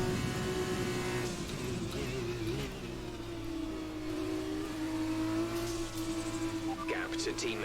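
A Formula 2 car engine in F1 2020 holds a steady high drone with a gradual pitch climb under acceleration, continuous and fairly loud, with a voice talking over it.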